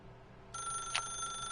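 A telephone rings in The Stanley Parable: Ultra Deluxe, a bright electronic ring starting suddenly after a quiet moment and holding steady, fairly soft over low ambience.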